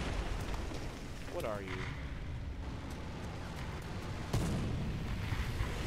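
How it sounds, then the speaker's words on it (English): Artillery shells land on a tank's position in a simulator-battles tank video game, with deep rumbling booms under constant engine noise and a sharper burst near the end. Someone speaks briefly. "More artillery on my position."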